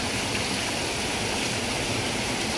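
Steady rushing stream water, a dense, even flow with no pauses and no voices, where a PVC-pipe crab trap is set.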